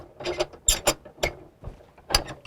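A Rultract post clamp being loosened and taken off a surgical table rail gives a close series of short metallic clicks and scrapes, irregular and fairly loud with brief gaps.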